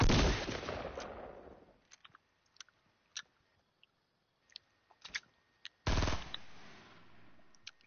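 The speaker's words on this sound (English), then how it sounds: "I'm shooting at them." Gunfire in a video game: a loud burst opens, then scattered sharp single shots with quiet gaps, then another heavy burst near the end, with no talking.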